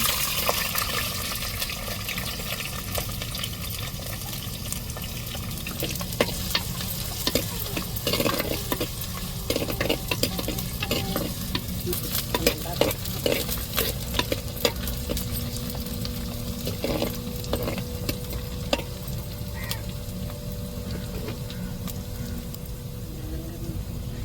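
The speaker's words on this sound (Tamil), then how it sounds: "எண்ணெய் சூடேறிட்டு இப்போ வெங்காயம் சேர்த்துக்கிறோம்" Onions and cinnamon bark frying in hot oil in a pan, a steady close sizzle with frequent scraping stirs and clinks of a spoon throughout, no voices.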